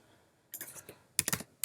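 Computer keyboard keys pressed in quick clusters, a brief burst of sharp clicks, then a tighter run of several taps and a final single loud press, close and clear over near silence.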